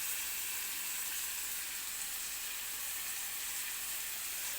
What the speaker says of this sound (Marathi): एका बाजूला लसूण टाकून तो सुद्धा गोल्डन रंगावरती भाजून घेते